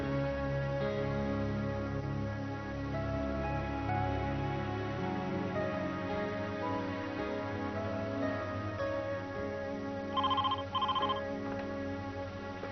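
A telephone rings in a quiet indoor drama scene, two short electronic trills near the end over a faint steady tonal background, with no voices.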